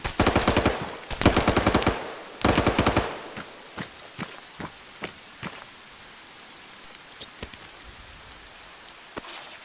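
Gunfire in the military video game ArmA 3: several loud bursts of automatic fire up front, then sharper single and scattered shots that thin out and come from farther off.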